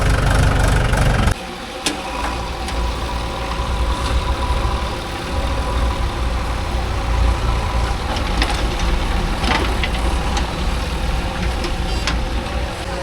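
A heavy diesel engine of a JCB 3DX backhoe idles with a steady chugging rumble while loading lake soil, after a louder opening burst, with faint knocks and clatter of loading mixed in.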